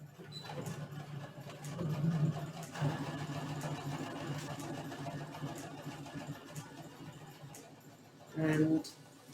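A Brother sewing machine runs with a steady, quiet low hum and needle chatter over about nine seconds, with a brief louder burst near the end.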